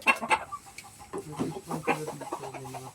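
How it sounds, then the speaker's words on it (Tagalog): Several chickens cluck and murmur nearby in short, overlapping calls, a busy flock sound at moderate volume. "Daming manok ko."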